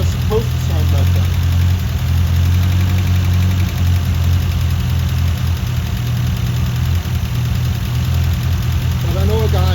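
A Toyota Cressida engine idles steadily with its valves ticking. The low rumble runs unbroken and close by, and a faint voice comes in near the start and again near the end.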